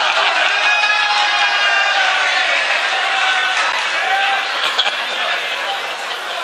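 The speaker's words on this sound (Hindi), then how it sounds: "नहीं चचा मियां के लिए जोरदार ताली बजा दीजिए" Audience applause at a mushaira poetry gathering: a loud, dense, continuous wash of clapping and crowd noise that holds steady throughout, with cheers mixed in.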